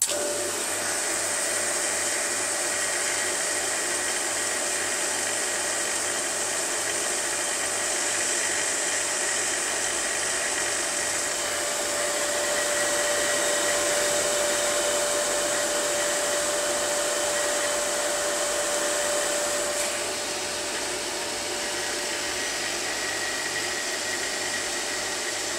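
A vacuum pump runs steadily for an electric arc-in-vacuum experiment, a loud constant whirring hum with a faint whine, unbroken for the whole stretch with no talk.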